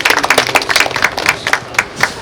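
Audience clapping at an outdoor ceremony at the April 19th Revolution memorial tower in Suyu-ri, a steady patter of many hands that fills the whole moment with no voices over it.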